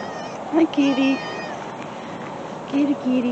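A cat meows close by in two pairs of short, clear mews separated by a brief pause.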